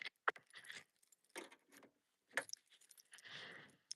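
A bunch of car keys jangling in a parking lot at night, several short metallic rattling bursts, close and fairly faint, with a longer shaking jingle at the end.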